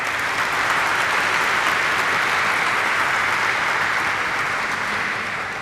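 A morning audience at a stock exchange listing ceremony for Yash Optics & Lens Limited on NSE Emerge in Mumbai breaks into loud, sustained applause, a dense steady wash of clapping that holds throughout and eases slightly at the end.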